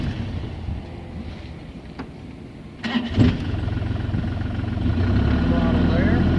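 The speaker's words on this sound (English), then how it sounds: "just to give you a little quick demo here, we will turn it on. Glow plugs are warm." A mini excavator's diesel engine, glow plugs warmed, cranks and catches around the middle, then settles into a steady, loud, close idle rumble with some wind noise on the microphone.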